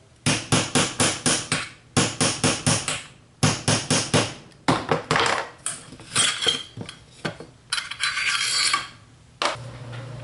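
A hammer taps repeatedly on a part of a Kel-Tec Sub-2000 carbine, knocking it loose. The sharp, close metallic strikes come in quick bursts of four to six with short pauses, then give way to some rougher scraping and handling noise.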